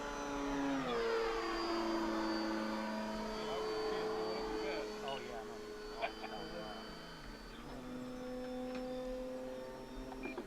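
An OMP balsa Decathlon RC airplane flying aerobatics, a steady whining electric motor drone that shifts pitch as it passes and turns, with people talking over it.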